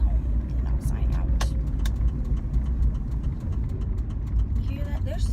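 A faulty, noisy car rumbles along the road, its engine droning low and constant from inside the cabin. A few faint rattles and squeaks break through the rumble.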